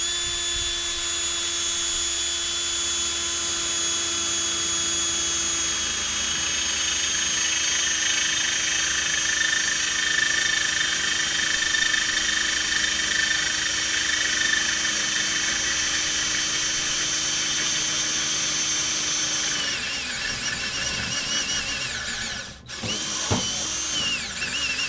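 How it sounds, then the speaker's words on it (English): An old, worn drill drives deck screws into a C-Dory 22 boat, whining steadily and loudly for about twenty seconds before slowing, with a short clunk and some handling noise as it stops. "This is my old junky drill."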